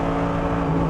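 Mercedes-AMG GT3 race car engine on the Nordschleife holds a steady, loud drone at high revs, a continuous in-car roar with a pitch that rises slightly toward the end.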